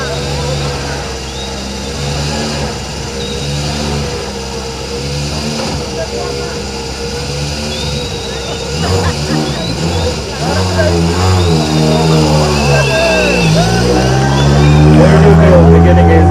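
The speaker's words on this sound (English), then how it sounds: "Now that's the sound of a proper rally car just about to begin his journey." A rally car at the WRC Safari Rally Kenya 2026 flag-off idles, then revs repeatedly with rising and falling pitch before pulling away loudly, the roar building toward the end.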